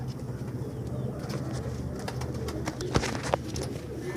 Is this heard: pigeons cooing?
yes